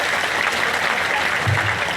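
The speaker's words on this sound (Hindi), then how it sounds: "एक बार जोरदार ताली बजा के उनका स्वागत करें।" A rally crowd in Ajaygarh breaks into loud, dense applause to welcome the Chief Minister of Assam. The clapping is steady and continuous for about two seconds.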